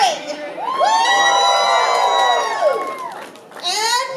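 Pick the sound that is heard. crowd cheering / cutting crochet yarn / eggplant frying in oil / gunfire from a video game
crowd cheering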